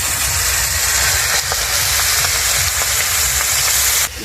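Fish sizzling and frying in hot oil in a pan, a steady dense crackle running throughout, fairly loud and close, with a few sharper pops.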